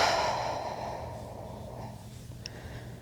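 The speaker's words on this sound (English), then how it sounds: "exhale through your mouth" A single soft exhale through the mouth during a relaxing bedtime stretch, close and quiet, fading out over a low room hum.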